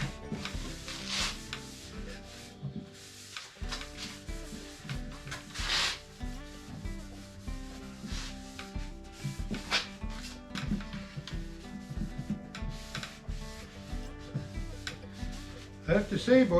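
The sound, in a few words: wiping sanded wooden chair with paint thinner and shop towel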